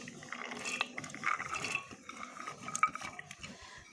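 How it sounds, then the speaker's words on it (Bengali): Soaked lentils are tipped into a pressure cooker on top of meat, giving soft wet splashes, trickles and light metallic clinks in a short, quiet stretch. "এবার আমি এখানে ডাউলগুলো দিয়ে দিচ্ছি।"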